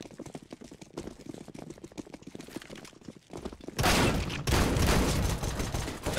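Gunfire in the shooter CS:GO: light, scattered shots early, then a loud, dense burst of rapid fire filling the last seconds.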